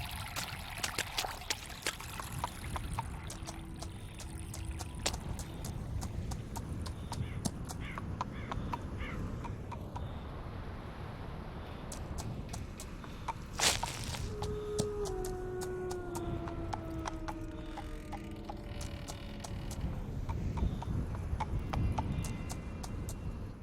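Horse hooves clip-clop steadily at a walking pace on a road in a gothic Edgar Allan Poe story game, fairly quiet under a faint outdoor ambience, with brief bird-like calls midway.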